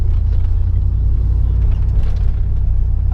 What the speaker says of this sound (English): I'm not sure if you can hear the burble in the truck or not